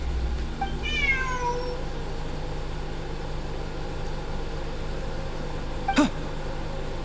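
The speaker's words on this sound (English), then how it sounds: "Look! A cat!" A cat in Genshin Impact lets out one clear meow with a rising and falling pitch, heard over steady game ambience and a low engine-like hum, followed a few seconds later by a short sharp click.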